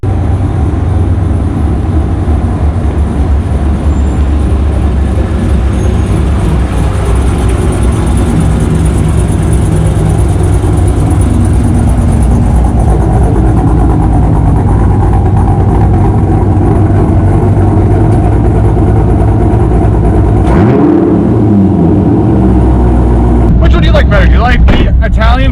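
A car engine idles steadily with a low, continuous rumble, and voices talk over it throughout.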